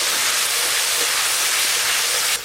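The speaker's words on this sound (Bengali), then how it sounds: "একটু জল দেব।" Steady, loud hiss as water is poured into a hot pan of frying spices, with turmeric and salt, while cooking a yam and potato dish; a continuous sizzle running unbroken for a couple of seconds, then slightly easing.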